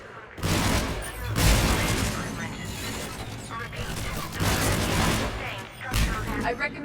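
Turrets in the video game Mass Effect fire in dense, rapid bursts, loud and continuous with booming impacts and short pauses between volleys, while voices speak over the gunfire.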